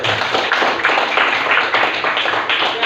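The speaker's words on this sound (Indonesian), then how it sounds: "Kita tepuk tangan dulu untuk kelompok 1." A classroom audience applauds a student group after their presentation, a dense, even wash of many hands clapping at once that holds steady throughout.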